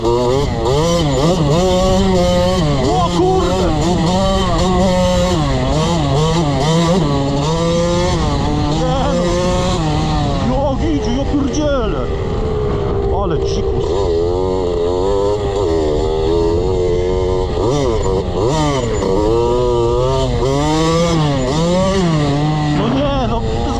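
A KTM SX 65 two-stroke dirt bike engine revs hard and close, its buzzing note climbing and falling through repeated throttle blips, with a brief dip midway before revving up again; someone talks over it at times.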